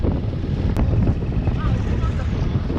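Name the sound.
strong wind on island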